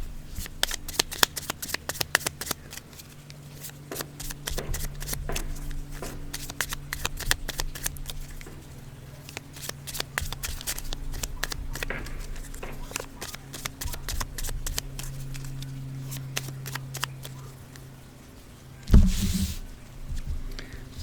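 Tarot cards shuffled by hand, a close, rapid riffling patter repeated in bursts over a steady low hum, with someone speaking French softly at times and a louder thump near the end.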